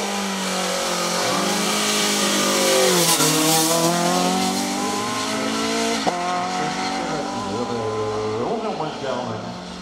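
Renault Clio 2 Cup race car climbing a hill climb course, its engine revving hard and close with rising pitch sweeps through gear changes, while an announcer speaks over the engine noise.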